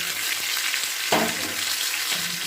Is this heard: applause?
no